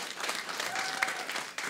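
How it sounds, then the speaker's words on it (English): Audience clapping at a comedy special, a short, fairly faint burst of scattered applause from a crowd. "That's all the applause I get."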